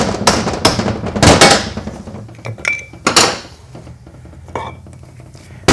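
Metal hammer blows drive a small chisel between the parts of a damaged Ford transfer case, giving loud, sharp clanks in irregular bursts with ringing pauses between strikes.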